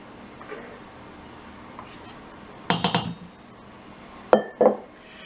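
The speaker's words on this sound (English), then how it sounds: "Getting the eggs and the sugar out of the bowl, putting it into a larger bowl" Whisked eggs and sugar being scraped from a bowl into a larger mixing bowl, heard as a few close clinks and knocks of utensil on bowl between quiet pauses.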